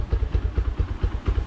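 A motorcycle engine runs at a rough, uneven idle, its low throbbing pulses arriving in a regular beat of about five per second, close and moderately loud.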